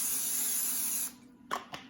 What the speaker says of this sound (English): we're just gonna spray our pan